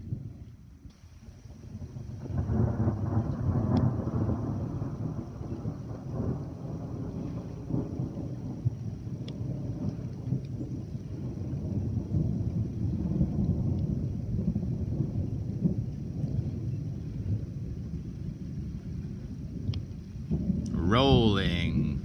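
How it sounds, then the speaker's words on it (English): Deep thunder rolls and rumbles for a long stretch over steady rain, swelling again near the end with a sharper crackle. "Rolling thunder."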